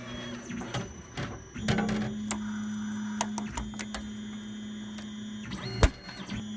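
A Tormach CNC mill with a tension-compression tapping head taps steel, giving a steady motor whine broken by irregular clicks, knocks and sharp metallic ticks, close and moderately loud.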